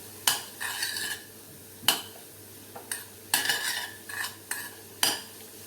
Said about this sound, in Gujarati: બધું જ સારી રીતે આપણે મિક્સ કરી લઈએ